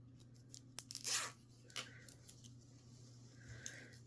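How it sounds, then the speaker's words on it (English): Zip ties are cinched around artificial greenery on a metal wreath frame, giving quiet, quick ratcheting rasps and a short zipping pull, with faint rustling between. "So all I'm doing is I am just zip tying this every couple of inches just to keep it nice and snug."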